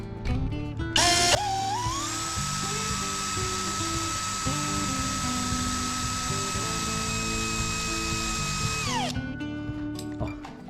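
A power drill drives a screw into a replacement handle on an outward-opening stairwell window, a steady whining spin that holds for about seven seconds between a brief start and stop, loud and close, with no talk.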